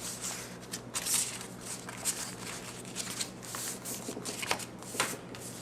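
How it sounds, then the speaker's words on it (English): Paper card being folded and creased with a bone folder, giving continuous soft rustling and scraping with small crisp papery ticks, close and fairly quiet. "Take your bone folder and fold them up, making a good crease on both pieces."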